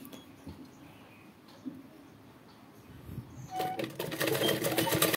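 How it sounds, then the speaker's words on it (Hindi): A sewing machine stitching a folded blouse strip, starting with faint scattered clicks and then settling into a fast, continuous mechanical rattle that grows louder toward the end, with no talk. "तो ऐसे ही हम पूरी सिलाई कर लेंगे"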